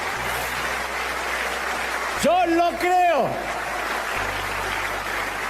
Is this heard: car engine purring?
no